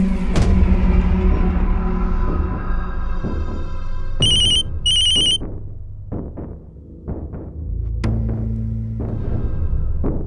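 A telephone rings in a tense crime-drama scene: two short bursts of bright electronic ringing stand out over a low musical bed and rumble, followed by scattered knocks and thumps.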